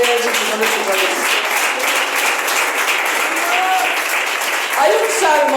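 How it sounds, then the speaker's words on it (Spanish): Church congregation clapping and applauding steadily throughout, a dense sustained wash of hand claps with a voice and some singing-like tones rising over it. "Dale palmas a la Biblia de Dios, Señor de tus reyes."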